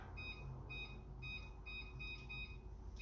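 A kitchen timer beeps in short repeated bursts, about six evenly spaced pulses of high electronic tones over a low background hum in a home kitchen.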